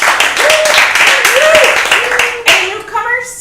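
Theater audience applauding at a show in the Mopco, a dense wash of clapping that swells and holds for a few seconds, with a voice talking over it and whoops from the crowd.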